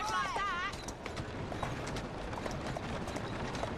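Horse hooves in Assassin's Creed Syndicate, a faint, soft patter of steps under a busy game ambience, opening with a brief whistling tone and then settling into continuous background noise.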